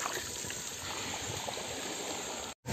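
Bicycles on a Sunday club ride roll through water lying on the road, a steady rushing wash of splashing noise that continues evenly before cutting out briefly near the end.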